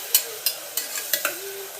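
Tomato, onion, curry leaves, mustard seeds and cumin fry in a pan under a low sizzle, with several sharp spoon taps and scrapes against the metal coming about every third of a second.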